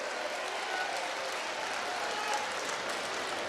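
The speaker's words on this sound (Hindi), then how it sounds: "इधर से आवाज ताली बजा के बताओ जोर से, किसकी ताली बज रही है?" A large crowd claps at a political rally in India, a dense, steady wash of applause that holds at even loudness throughout.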